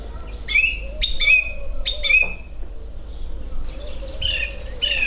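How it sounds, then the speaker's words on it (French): A song thrush sings clear, repeated phrases, each short whistled figure given two or three times before switching, against a low steady background rumble. "Par exemple, là on entend une grive musicienne."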